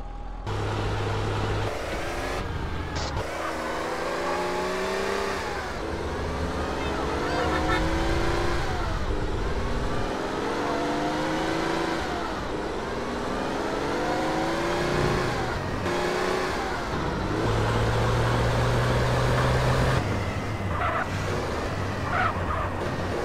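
Car engine in GTA San Andreas revving and accelerating through repeated rising sweeps as it shifts gears, loud and continuous for over twenty seconds, with occasional faint voices beneath.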